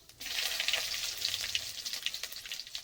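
Whole cumin seeds and bay leaves frying in hot oil in a clay pot, a steady close crackling sizzle with scattered pops that holds throughout.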